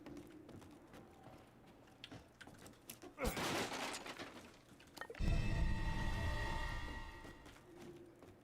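Gunfire in Resident Evil Village: a burst of shots, then a louder, dense volley with rattling mechanical clatter, over a quiet game background.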